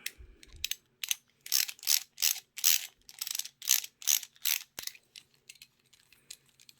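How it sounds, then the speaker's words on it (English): A socket wrench ratchets a bolt loose while converting a domestic sewing machine treadle to industrial use, giving a steady series of about a dozen close, crisp clicking ratchet strokes at an even rhythm, with no talk. "So I'm gonna take my bolt out."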